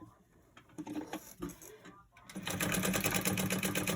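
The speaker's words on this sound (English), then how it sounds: "stitch 1/8 of an inch up from the bottom edge of that strip" A sewing machine stitches a dark purple fabric strip for the card slot of a crossbody bag, sewing 1/8 inch up from the bottom edge; after about two seconds of quieter handling, a loud, steady, rapid whir of stitching sets in.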